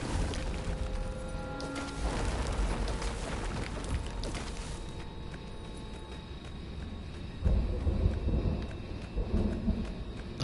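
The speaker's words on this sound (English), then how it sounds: "I like the sound, because it sounds like that's outside. Like, in real life outside. The thunder, that is." Thunder rumbles through a storm with falling rain, a broad continuous roll that swells again near the end, sounding like it comes from outdoors, with no talk.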